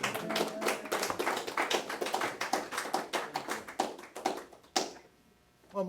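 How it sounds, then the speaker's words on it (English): Live audience applause at a speakers' event, a steady burst of clapping from many hands that fades out near the end, with a sharp final clap. "Give him a round of applause."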